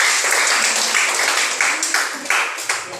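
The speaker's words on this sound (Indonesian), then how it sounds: "tepuk tangan untuk kita semua" Applause from a classroom group of teachers and students, dense continuous clapping close by, loud at first and then thinning into scattered individual claps toward the end.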